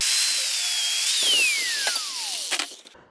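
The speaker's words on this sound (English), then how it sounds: "I'm going to cut these welds off" A high-pitched power tool, used to cut off welds on a 1936 Chevy truck brake pedal bracket, whines loudly, its pitch sliding steadily downward as it spins down, with a few clanks before it fades out.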